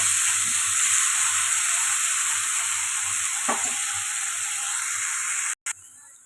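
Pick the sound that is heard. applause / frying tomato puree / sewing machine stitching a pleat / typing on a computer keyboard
frying tomato puree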